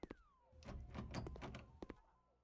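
Door in the horror video game Tiyanak, a faint sliding, thunking open with a creaky rising tone and a couple of knock-like clicks over about two seconds, quiet and close.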